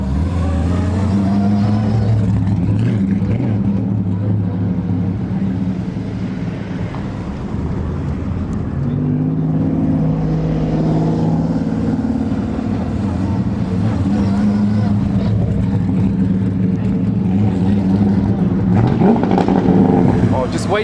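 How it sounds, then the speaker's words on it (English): An LS V8-swapped Mazda RX-7 time attack car's deep, throaty engine rumbles steadily and loudly as it pulls away from a car meet, with voices murmuring in the background. "the LS-swapped Time Attack RX-7 departs the car meet"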